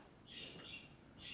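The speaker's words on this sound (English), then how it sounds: "Jeez, my parrots won't shut up." Pet parrots chirping faintly in the background, a few short high twittering calls repeating over low room noise.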